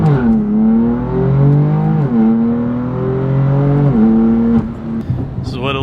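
BMW M4 CS with the S55 engine, its exhaust droning and rasping loudly as revs climb and drop in repeated gear-change steps, close and continuous, with a brief lift-off near the end.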